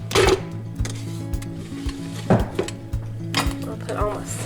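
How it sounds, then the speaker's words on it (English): A metal cookie scoop clinks and scrapes as ground meat is scooped into meatballs and set onto a pan, sharp taps and knocks at an uneven pace over a steady low kitchen hum. "I'll use the cookie scoop to scoop out the meatballs. That way they'll all be the same size and we'll get them on a pan."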